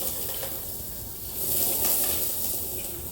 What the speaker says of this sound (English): Hot pan. It's sizzling